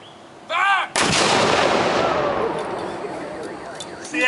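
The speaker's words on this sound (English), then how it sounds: "We did just fire a pound of black powder." A Civil War era cannon fires a pound of black powder in a single huge, close blast that rolls and echoes away over several seconds, with someone shouting just before it and voices returning as it fades.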